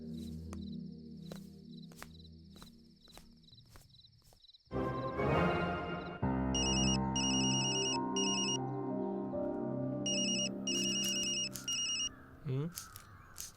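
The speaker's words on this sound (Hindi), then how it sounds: "फोन बज रहा है, सुनाई नहीं देता?" A telephone rings in repeated electronic bursts, separated by short pauses, over a steady background and people talking.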